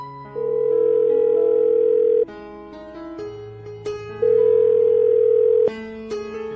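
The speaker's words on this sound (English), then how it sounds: "I'm going to dial the phone number right now." Touch-tone telephone dialing a number, a run of steady beeping dual tones, some long and some short, sounding loudly and alone with no talking.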